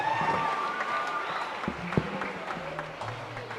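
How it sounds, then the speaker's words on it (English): Audience applause at a school's annual stage production, a steady patter of many hands clapping at moderate loudness with some tonal sound running underneath. "Shall we give them another round of applause?"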